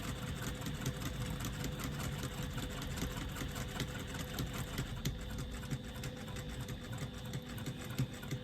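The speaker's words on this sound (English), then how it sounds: "I'm just going to do a couple of stitches forward and backwards just to secure my stitching at the end there" A sewing machine runs steadily for several seconds, stitching forward and back across a zipper pocket on a retro clutch, with a close, rhythmic whirring chatter.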